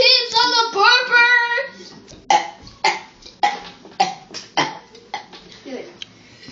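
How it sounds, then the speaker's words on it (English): A child lets out a run of loud, croaky burps, first long drawn-out ones then a quick string of short bursts, close up with a brief voice between them. "I want to burp some more."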